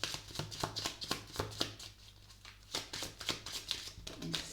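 Tarot cards shuffled by hand in a continuous rapid riffling flutter, close and fairly quiet, with faint low voice or hum underneath.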